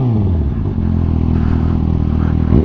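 A Kawasaki ZX6R inline-four sport bike revs hard nearby, a loud rising snarl with rapid throttle blips and strong engine harmonics, ending in another sharp rev.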